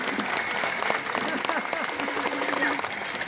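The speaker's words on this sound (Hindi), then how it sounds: "अब एक लिए एक बार जोरदार ताली बजा भाई" An audience claps loudly and steadily for a comic Gita recitation, with a continuous dense patter and no clear gaps.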